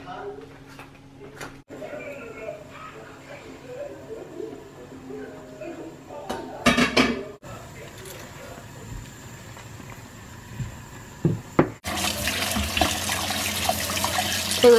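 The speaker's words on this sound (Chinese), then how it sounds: "这个要使劲冲，把那个油脂都冲掉了。" A greasy cooking pot is rinsed hard under a running kitchen tap, with a steady splashing stream, occasional clanks of metal against the sink, and a louder gush near the end. People talk in the background.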